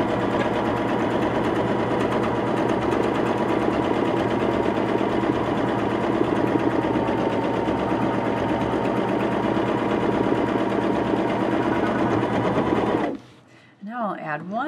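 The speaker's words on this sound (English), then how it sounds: "your needle stitches about 1/4 of an inch inside of the edge of the ruler" Baby Lock Jazz sewing machine stitching against a ruler, a steady fast mechanical whir running continuously for about thirteen seconds before stopping, with a voice talking over it.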